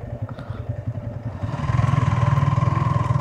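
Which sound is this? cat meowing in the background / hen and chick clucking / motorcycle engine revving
motorcycle engine revving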